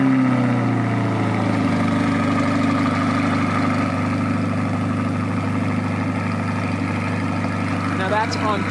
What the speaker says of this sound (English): let's go for a cold start on the key here